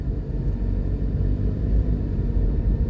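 Tour buses pulling away from the cruise port in Falmouth, Jamaica produce a steady low diesel rumble, continuous and moderately close, with no talk over it.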